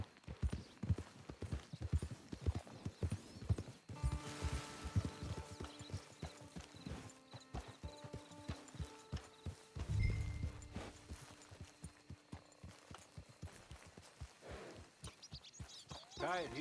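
Horse hooves clip-clop through a camp in Red Dead Redemption 2, sharp rhythmic steps close by, with a whinny and a swelling music tone in the middle and some talk mixed in.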